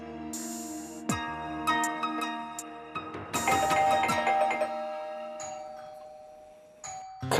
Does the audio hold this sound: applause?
no